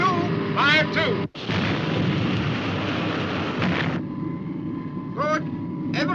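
Ship's guns fire on command aboard a vessel, a deep rumbling boom that rolls on for several seconds, with a sharp break and renewed roar, while voices are heard intermittently in between.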